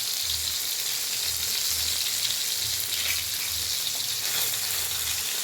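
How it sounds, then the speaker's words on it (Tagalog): Fish frying in a pan for a simple lunch dish, a steady close sizzle and crackle of hot oil running without a break, with no talk over it. "Prito-prito lang ng isda."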